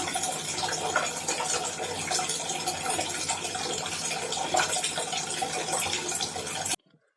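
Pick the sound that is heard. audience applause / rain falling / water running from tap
water running from tap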